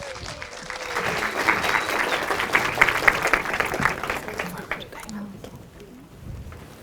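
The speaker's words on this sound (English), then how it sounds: "Big round of applause, please." Audience applause at a tech conference talk, a steady wash of many hands clapping that swells early, holds, then thins and fades toward the end.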